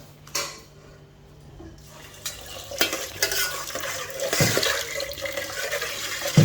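Water is poured into a pot of stew while cooking Ghana jollof rice, a soft splashing and gurgling that swells over a few seconds amid faint pot clatter.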